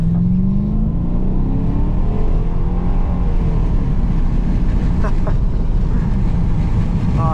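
A loud 5-litre V8 engine in a VT Calais revs and holds a deep, throaty roar, pitch rising and falling as it accelerates, close and continuous throughout.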